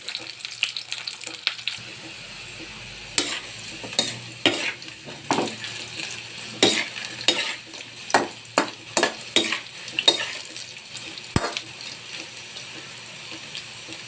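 Fries fry in a little oil and are stirred, with a soft continuous sizzle beneath a series of sharp, close scraping and clattering stirring strokes that come irregularly, about one or two per second.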